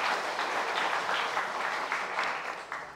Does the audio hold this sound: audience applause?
yes